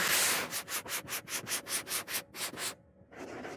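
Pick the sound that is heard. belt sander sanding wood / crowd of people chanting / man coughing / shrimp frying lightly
belt sander sanding wood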